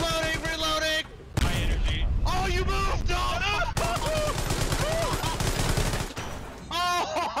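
Tank combat in Hell Let Loose, with bursts of machine-gun fire and heavy cannon shots cutting in and out. A voice talks over dense, loud battle noise that briefly drops out.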